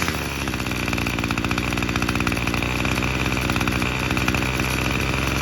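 A two-stroke weed trimmer engine runs steadily at a buzzy, rattling idle, loud and close, with a constant pulsing drone and no speech.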